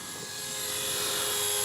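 An RC Era Bell 206 C138 ready-to-fly model helicopter flying low, its high whining rotor and motor buzz steady and growing slightly louder as it approaches, alone without talk.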